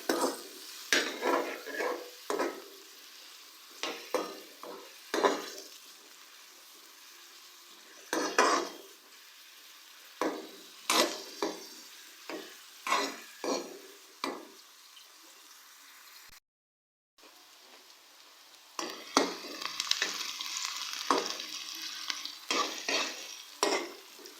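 Onions sizzle quietly in a pan, frying toward light golden, while a spoon scrapes and stirs in steady, rhythmic strokes, with a short silent gap near the end.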